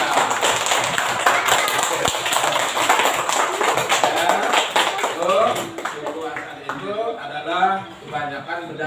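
Classroom clapping among students during a lesson, a dense patter of hands under a teacher's voice, fading after a few seconds as speech takes over.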